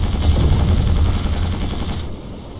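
Rockets fired from a ship at a bunker in Quake 4 produce a dense, loud rumbling barrage of blasts for about two seconds, then a fading roar, with no talk.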